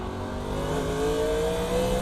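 A NASCAR Legends car engine in iRacing, driven at Sonoma, drones loudly and close up, its pitch rising and shifting as the car downshifts into a short gear, with no talk over it.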